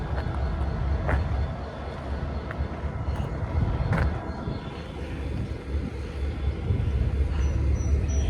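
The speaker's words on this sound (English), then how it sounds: "It's the train." A train rolls across railway trestles at the old Bethlehem Steel site, giving a steady, fairly distant rumble with faint clanks throughout and no one talking.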